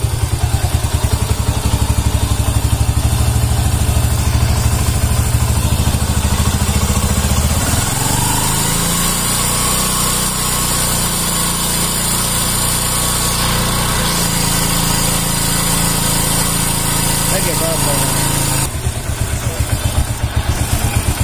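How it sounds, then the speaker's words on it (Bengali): A TVS Star Sport motorcycle engine idling after being refitted, a close, loud and steady rapid putter that shifts pitch partway through and then settles again. "তো একদিকে স্টার্ট সেটিং এর পরে ইঞ্জিনের সাউন্ডও খুব সুন্দর আসছে"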